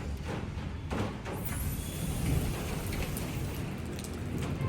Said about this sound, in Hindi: it's raining right now literally in the month of April